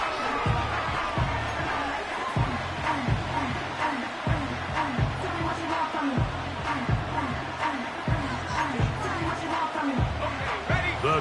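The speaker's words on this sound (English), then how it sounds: "The crowd cranking it up another notch before 3rd and long." Stadium crowd cheering in the Madden 25 American football video game before a third-and-long play: a loud, steady roar of many voices that swells throughout, with rhythmic chanting pulses.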